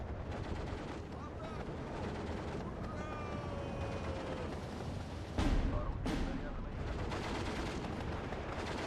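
Artillery counter-battery fire pounds mortar positions in the strategy game Steel Division 2, a dense rumble of distant shelling and gunfire with one louder blast partway through, all under a talking player.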